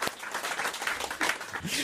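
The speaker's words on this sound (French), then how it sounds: "Merci, Huguette, on vous applaudit." A radio studio audience at a comedy jokes show bursts into brief applause, a dense patter of clapping at moderate volume, with voices mixed in.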